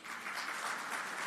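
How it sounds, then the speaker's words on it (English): Audience at an official government launch ceremony applauds in a steady, fairly quiet round of clapping with no break. "you are asked to applaud"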